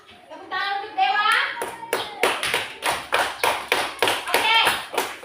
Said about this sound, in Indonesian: tepuk tangan untuk Dewa.